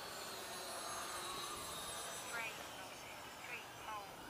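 A radio-controlled Force RC F-18 Blue Angel model jet flies during landing practice, giving a steady, loud, whooshing ducted-fan whine with slight pitch sweeps as it passes.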